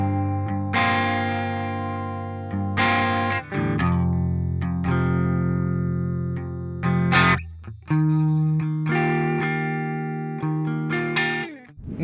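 Electric guitar riff played through a HeadRush Revalver 5 amp model with no effects: bright, loud sustained chords and single notes with short gaps, played alone without voices.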